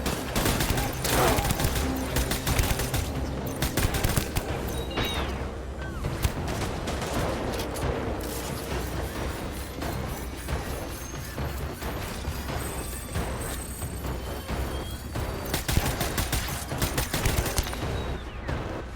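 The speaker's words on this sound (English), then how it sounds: "These are non-lethal bullets." Sustained rapid gunfire from non-lethal bullets in Death Stranding, loud continuous bursts and crashes running through the whole stretch with barely a pause.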